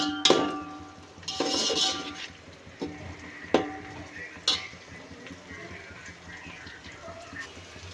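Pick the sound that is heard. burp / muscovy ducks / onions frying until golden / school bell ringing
onions frying until golden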